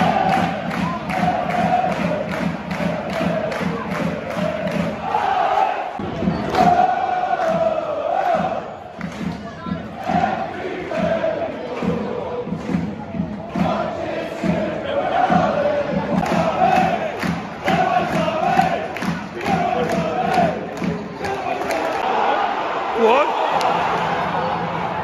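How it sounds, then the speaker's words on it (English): A football crowd at Crewe Alexandra versus Derby County claps and roars at half-time, a dense, loud mass of applause, chanting and cheering that rises and falls throughout, with voices mixed in. "I'm in an end where there's an applause."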